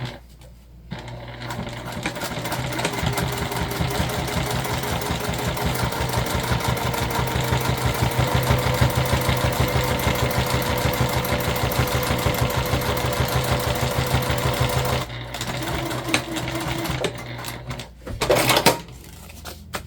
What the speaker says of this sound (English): This is exterior only, and we're top stitching.